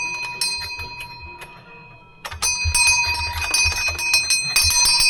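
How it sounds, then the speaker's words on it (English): A handheld bell rung by a live-stream seller, bright metallic rings with a lingering tone, a few scattered strikes, then a quick burst of rapid repeated ringing, loud and close. "My bell sounds really sad this morning"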